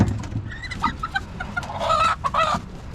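A rooster with its feet tied clucks and squawks in agitated bursts, near and fairly loud, over a low rumbling background.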